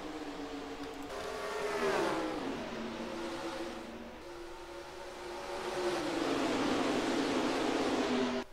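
Stock cars in NASCAR Racing 2003 roar up through the gears together, a dense pack of engines rising, dipping and surging again at Kentucky as the field heads to the start line, loud and continuous with no talk.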